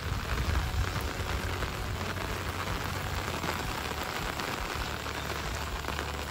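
Heavy monsoon rain in Uttarakhand pours onto surfaces nearby, a loud, dense, continuous hiss of drops that never lets up, with no voices.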